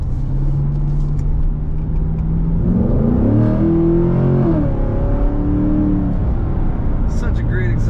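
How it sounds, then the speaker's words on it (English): A 2016 Chevrolet Corvette Z51's engine revs up and back down, a close rising and falling exhaust drone with a steady low rumble underneath and a brief higher whir at the end. "Such a great exhaust sound."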